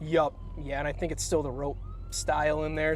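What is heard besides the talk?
sirens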